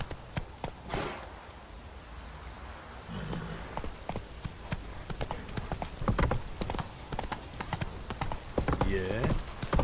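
Roach, a horse in The Witcher 3, gallops in a quick, clattering rhythm of hoofbeats that grows louder and busier toward the end, with a few voice-like sounds mixed in.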